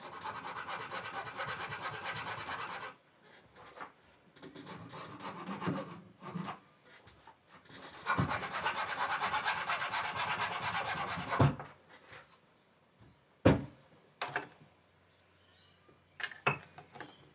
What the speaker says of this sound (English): Grab a flat file, just smooth that out, get some of those scratches out.